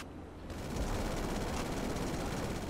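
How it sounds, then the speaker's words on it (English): Rapid cannon fire at a plane in GTA Online, a dense continuous burst of automatic shots that starts abruptly and roars on loud and unbroken for a couple of seconds. "let me try to use the cannon"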